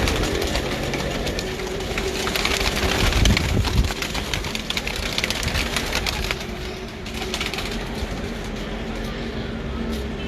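Rooftop loft pigeons, including black-barred birds, coo and flutter amid clattering background noise and a brief rumble, the soft calls mixed with outdoor bustle and no clear talk.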